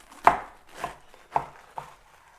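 Knife chopping through food on a cutting board for a quick BBQ salad, four distinct evenly spaced cuts, close and clear with no talking.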